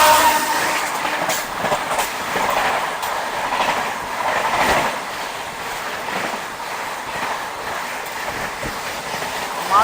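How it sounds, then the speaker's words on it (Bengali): Kolkata–Yog Nagar Rishikesh train pulling out of Mankar station, a loud continuous rumble with rhythmic rail clatter and wheel noise close by. "5টা 32-এ আমাদের মানকর স্টেশন থেকে এই কলকাতা ইয়োগনগর ঋষিকেশ ট্রেনটা ছেড়ে দিয়েছে"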